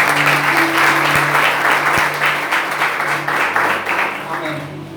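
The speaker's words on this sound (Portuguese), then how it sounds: "Se você quer dar uma voz salve de palmas, Senhor" A church congregation at a family worship service claps together in a steady, dense burst of applause that fills the room, fading slightly toward the end.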